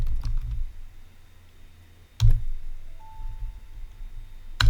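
A few sparse clicks on a computer keyboard, including a press of the Enter key, sound close up as isolated keystrokes separated by quiet room hum.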